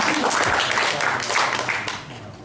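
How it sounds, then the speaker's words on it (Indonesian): Audience applause for a candidate pair at a 2017 Kupang mayoral and deputy mayoral debate, a dense, steady wash of clapping that fills the short stretch and eases slightly toward the end. "Kita berikan tepuk tangan untuk pasangan dengan nomor urut"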